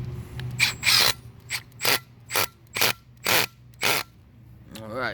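A screw with a washer is driven into a concrete anchor in short, ratcheting bursts, about seven sharp mechanical spurts with brief pauses between, close and fairly loud, ending with a faint scraping sweep.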